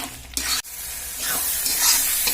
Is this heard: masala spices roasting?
yes